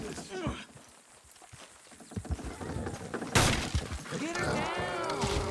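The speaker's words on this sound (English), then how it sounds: "Horses will pull it clean down." Horses pull in Red Dead Redemption 2, with hooves thudding, a sharp crash and whinnying heard under bursts of spoken dialogue.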